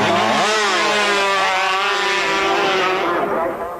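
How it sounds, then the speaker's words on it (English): 125cc racing motorcycles at a road race, a loud high-pitched two-stroke engine wail rushing close past and sliding down in pitch, then fading into the distance over a few seconds. "here's the battle for fourth, and still Robert Dunlop, number 4, holds off Trevor Ritchie, number 5."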